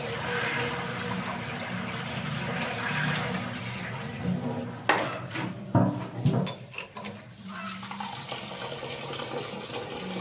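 Water being poured off washed rice in a pot, first a steady running flow, then sharp splashes and clattering knocks of the vessel as the last water drains out, close by.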